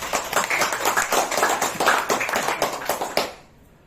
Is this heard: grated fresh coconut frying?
no